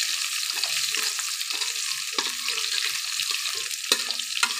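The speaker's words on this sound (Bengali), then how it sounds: "রসুনগুলো আমি একটু ভেজে নিচ্ছি।" Chopped garlic fries in a pan, giving a steady close sizzle with occasional stirring scrapes and small pops.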